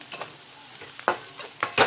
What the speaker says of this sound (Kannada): ಇವಾಗ ಒಂದು ಜರ ಅರಿಶಿನ ಹಾಕೊಳಾಗತ್ತೆ ನೋಡ್ರಿ ಹಾಕೊಂಡ್ರೆ ಅಷ್ಟು ಮಿಕ್ಸ್ ಮಾಡ್ಕೊತೀನಿ ರೀ